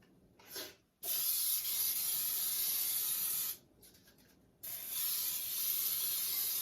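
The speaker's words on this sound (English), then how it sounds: "I'm going to spray my pan real good" Cooking spray can misting a baking pan for a lemon cream cheese pound cake: a short puff, then two long steady hissing bursts separated by a brief pause, close and fairly loud, with no talking.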